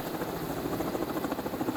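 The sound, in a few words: rescue helicopter hovering over mountain ridge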